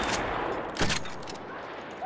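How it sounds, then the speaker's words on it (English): Enemy machine gun fire in the Battlefield 1 video game, a dense, loud burst of gunfire with one sharper crack partway through, continuing steadily with no talk. "There, enemy machine gun."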